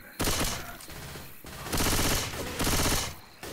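Rapid automatic gunfire from Left 4 Dead 2, sustained loud bursts of shooting with brief lulls between, close and dense throughout.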